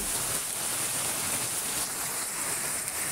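Continuous afternoon rainfall in Pabna, Bangladesh pours down in a steady, broad hiss, uniform and fairly close, with no talking.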